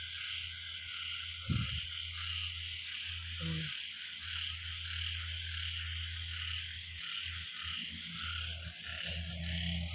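Frogs croak and crickets chirp together at night in a backyard garden, a dense steady insect trill running throughout with low repeated croaks underneath, close and continuous with no voices.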